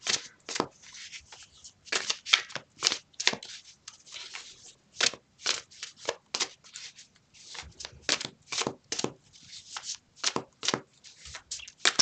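Tarot cards shuffled by hand in a steady run of crisp riffles and slaps, close and fairly quiet, with short pauses between bursts and no talking.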